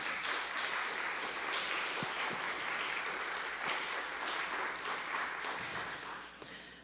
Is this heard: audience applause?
yes